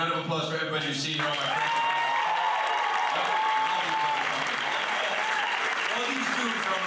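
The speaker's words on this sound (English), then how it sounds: "Give a round of applause for everybody who's seen here." Audience applause at a comedy show, a loud, sustained wash of clapping and crowd noise that fades slightly toward the end, with someone speaking over it early on.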